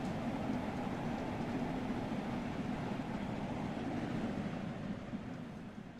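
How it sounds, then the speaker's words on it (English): A train rumbles steadily past in Train Sim World 3, a dense, loud low roar of wheels and carriage noise that holds without a break and fades only slightly near the end. "Oh, train."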